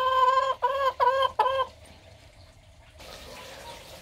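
Backyard chickens clucking in four loud, close bursts, then quiet with a soft watery hiss in the background; no talk.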